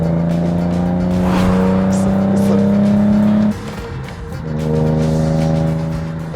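A BMW E28 M5 with its M88 straight-six engine pulls hard, a loud, close, rising engine note climbing steadily through a gear, then a sudden drop on the shift before revving up again.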